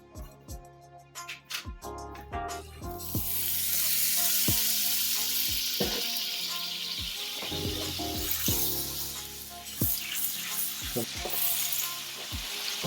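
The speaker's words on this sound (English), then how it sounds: "Add your steak in and then put your butter, because the pan needs to be hot" Steak frying in butter in a hot pan, a steady loud sizzle with scattered clicks and scraping of utensils against the pan throughout.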